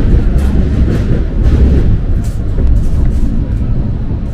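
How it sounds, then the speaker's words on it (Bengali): Onboard a train climbing through hilly country and tunnels: a loud, steady low rumble of wheels and carriage noise with faint rattling, continuous and close around the listener. "পাহাড়ের মধ্যে দিয়ে আমাদের ট্রেনটি যাচ্ছে।"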